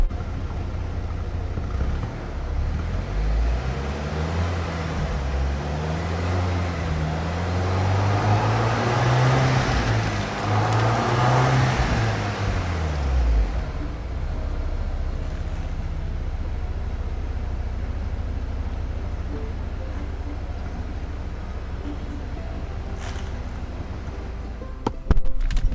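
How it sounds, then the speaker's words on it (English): Exhaust of a 2020 Range Rover Vogue, a low steady engine rumble heard close up, rising and falling through a couple of revs before settling back to a smooth idle. "let's listen to the exhaust"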